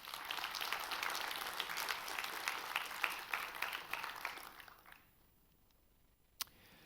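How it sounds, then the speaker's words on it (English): Audience applause at a conference reception, a moderate burst of many hands clapping that fades out after about five seconds, followed by near silence and a single sharp click. "Can we get a round of applause for all the sponsors"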